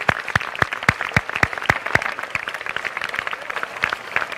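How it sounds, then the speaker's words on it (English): Graduates at a high school graduation ceremony clap for themselves, a dense wash of applause with some sharp individual claps standing out, steady and fairly loud throughout. "Clap for yourselves, please."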